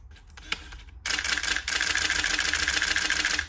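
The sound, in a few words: Nikon F5 film camera shutter firing in continuous shooting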